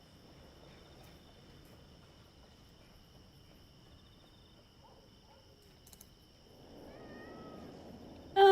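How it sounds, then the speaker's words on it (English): A cat meows on the main menu of the video game The House of Da Vinci 3, a few short rising calls near the end over a steady low ambient bed with insect-like chirps, followed by a brief louder burst. "there's a kitty cat on the main menu of the game"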